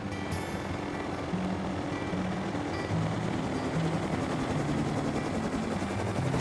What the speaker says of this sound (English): Where's my heli?